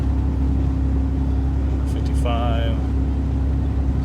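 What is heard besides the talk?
Ford Tremor truck engine accelerating while driving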